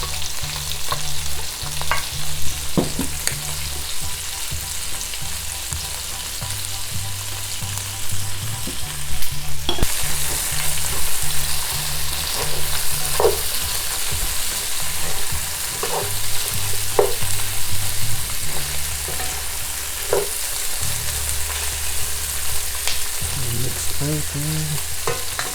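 Onion and ginger sizzle and fry in a pan with a loud, steady crackle, broken by repeated scraping stirs of a utensil throughout.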